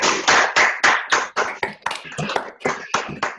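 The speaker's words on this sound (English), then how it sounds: "unmute and give a little bit of a round of applause to our panel" Around a dozen sharp claps ring out close in a short, uneven burst of applause for a panel at an event relaunch, with no voices.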